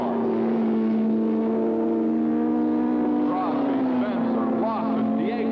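Suzuki superbikes racing at Daytona in 1981, a loud sustained engine whine at high revs holding steady and then shifting pitch as the bikes accelerate, heard under a narrator's voice.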